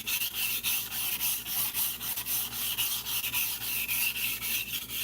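A kitchen knife belonging to mom is sharpened on a stone in quick, rhythmic back-and-forth strokes, giving a close, steady gritty rubbing with no talking.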